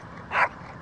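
A small terrier with leash reactivity lets out a single short, sharp bark, close and fairly loud against a quiet background.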